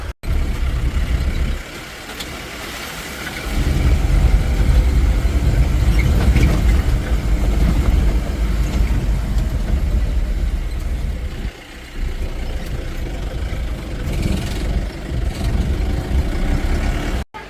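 Jeep cab engine idling on a hill road in Kerala, a close, loud, low diesel rumble that runs steadily throughout with a brief dip near the middle.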